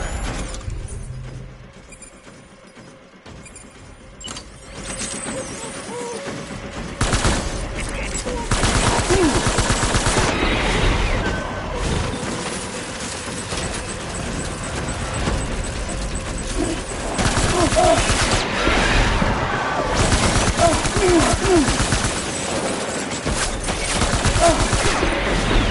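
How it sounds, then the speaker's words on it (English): Gunfire in the Death Stranding game breaks out as dense automatic fusillades, loud and sustained over many seconds after a quieter start, with voices talking at times. "Open fire."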